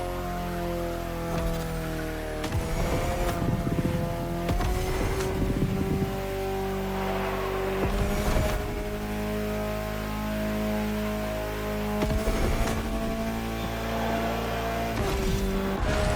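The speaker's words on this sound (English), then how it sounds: "incredible to see this stunning concept car in action. This is the hydrogen-powered Alpenblow High 6" Hydrogen-powered Alpine concept race car driving in a racing video game, a steady engine whine shifting pitch through gear changes, with recurring bursts of tire noise and rushing sound, no talk.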